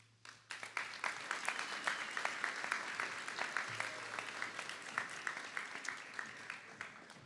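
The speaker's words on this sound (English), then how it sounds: "Graduates, give them a round of applause." A high school graduation crowd claps for the graduates' parents, a dense roll of applause swelling in after a quiet start and holding steady with sharp individual claps standing out, moderately distant in a large venue.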